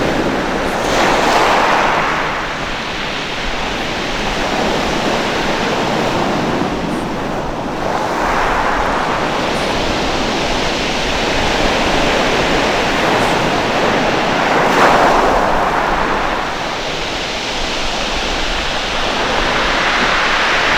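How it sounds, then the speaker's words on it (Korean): Waves wash steadily over the pebbles of Kongdol beach on Baengnyeongdo, a loud continuous surf with rolling surges every few seconds and wind noise, no voices. "자갈과 파도가 만들어내는 간질간질한 소리가 마음속 구석구석 찌든 때를 빼주는 것을 경험하실 겁니다."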